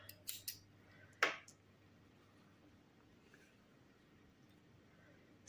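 Scissors snipping through yarn during a crochet chick keychain project, a few soft clicks early then one sharp close cut, quiet and near with no talk.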